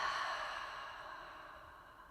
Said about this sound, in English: Let's take a few breaths in